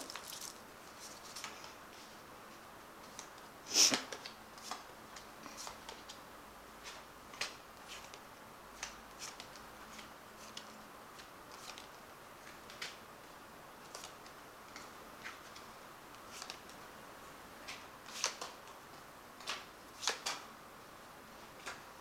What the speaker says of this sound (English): I'm just going to shuffle it one more time and then cut the cards.